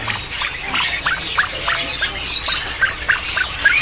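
Caged birds, including quail, squawk and chirp repeatedly at a bird market kiosk, a busy overlapping chorus of sharp calls over steady background hubbub.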